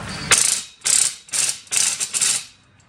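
Ratchet wrench tightening bolts on a greenhouse potting table, five close bursts of rapid clicking with short pauses between strokes.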